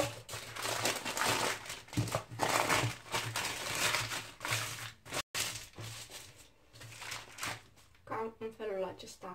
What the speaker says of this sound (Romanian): Voi desface din această hârtie de copt.